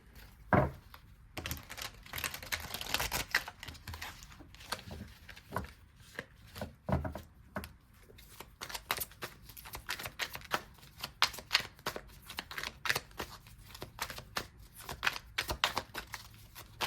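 Oracle cards being shuffled during a tarot-style reading, a long continuous run of rapid papery riffling and flicking clicks, close and steady, with no talking.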